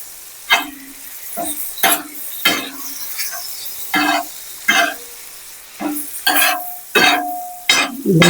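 Beef pieces in a pan with garlic, with yogurt added and stirred in: repeated bursts of scraping and sizzling at an uneven rhythm, close and fairly loud, no talk.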